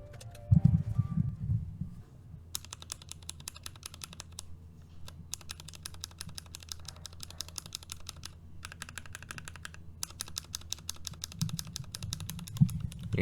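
Lubed Zealios tactile switches being typed on a mechanical keyboard produce steady runs of crisp, fairly high-pitched clacks, close and clear, with short pauses between bursts and no talking.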